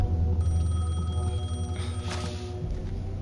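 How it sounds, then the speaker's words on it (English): Payphone ringing in the video game Alan Wake II, a steady electronic ring tone at moderate level over a low ambient hum, heard alone with no voices. "The payphone was ringing."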